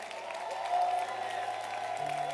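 An audience at a church conference claps their hands in steady, sustained applause that fills the hall under a faint hum.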